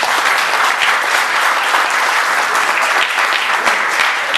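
Steady, dense audience applause fills a pie-cutting celebration for a southern Corfu sports club, loud and continuous throughout with no pauses or voices on top.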